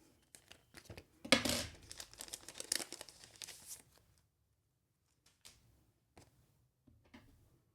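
Teeny tiny paper stickers handled for a junk journal sticker bomb, close crinkling, peeling and tearing in a busy flurry, then sparse quiet taps and rustles.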